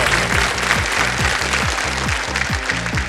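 Studio audience applause on the KBC quiz show set, steady and loud across the whole stretch, over a rhythmic low musical beat and with no voices on top.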